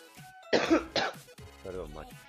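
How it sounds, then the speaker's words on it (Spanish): A man gives two sharp, close coughs in quick succession while playing a football video game, then carries on talking. "Me da la tos."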